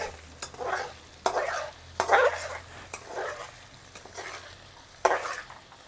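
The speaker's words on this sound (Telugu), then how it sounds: "ఉల్లిపాయ పేస్ట్ మళ్ళీ ఒకసారి తిప్పుకున్నాం." Onion paste for a village-style chicken masala fry being stirred in a pan, with repeated scraping strokes about once a second over a soft sizzle, close and fairly loud, no voices.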